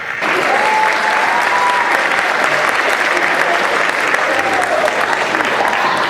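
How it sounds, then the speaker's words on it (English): An audience applauds after a magic trick with steady, loud, sustained clapping and a few faint crowd sounds throughout. "let's hear the applause"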